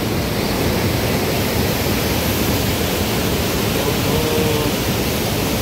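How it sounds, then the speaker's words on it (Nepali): A stream swollen by overnight rain in Nepal, near the Tamakham road, rushes past strongly enough to wash away pipes, making a loud, unbroken broadband roar with no voices. "खोला अझै पनि निकै ठुलो नै छ"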